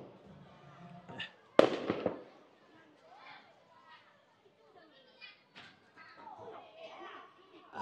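Fireworks are let off into the sky near an outdoor village basketball game in China: one sharp loud bang with crackling, then scattered smaller pops and distant crowd and children's voices.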